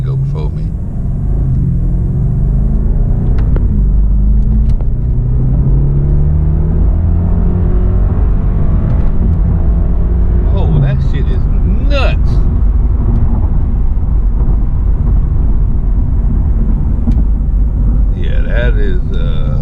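BMW 650i Gran Coupe with a turbocharged engine accelerating hard, a deep loud engine roar rising through gears with shift pauses, heard from inside the car as a person speaks briefly.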